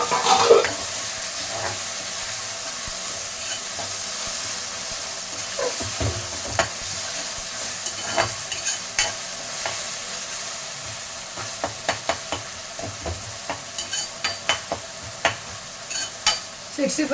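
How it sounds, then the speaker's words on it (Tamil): Tomatoes and masala sautéing in a pan for pepper chicken, a continuous frying hiss with scattered utensil clinks and scrapes that grow busier toward the end, close up and without speech. "நான் அப்படியே வதக்கி தான் செய்கிறேன் இன்றைக்கி."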